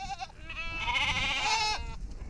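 A crowd of goats bleats loudly and close around a parked car in sweltering dry country, several overlapping wavering cries merging into one sustained chorus.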